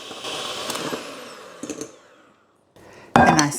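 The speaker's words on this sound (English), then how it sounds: "I've only got a handheld beater, and beat that for a good 4 to 5 minutes" Handheld electric beater whirring through almond Genoa cake batter, a buzzing mechanical drone in bursts with a brief pause, then louder and close.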